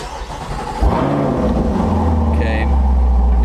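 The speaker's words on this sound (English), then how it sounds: "you're going to go ahead and you're going to start the car" A Corvette engine turns over and catches, then settles into a steady, loud idle rumble close by.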